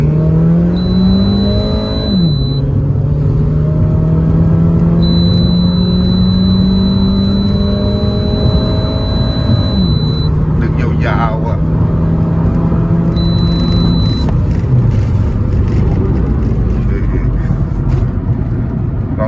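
Tuned Honda Civic FD with a 1.8-litre engine and automatic gearbox, running on E10 fuel with a K&N filter, revving up through rising pulls and dropping back repeatedly, loud and close, with someone talking over it.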